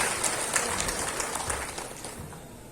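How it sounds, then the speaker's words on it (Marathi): Audience applause at a centenary convention of the Samata Sainik Dal, a broad, steady wash of clapping from a large crowd that holds at moderate level and fades slightly toward the end. "एकदा जोरदार टाळ्या आपल्या सर्व मार्चसाठी होऊन जाऊ."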